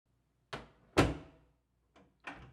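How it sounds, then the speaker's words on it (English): A door thumps and clunks indoors in a few short, sharp knocks and bangs, the loudest near the middle, with brief silences between. "That's the door. They're here."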